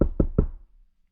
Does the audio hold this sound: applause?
no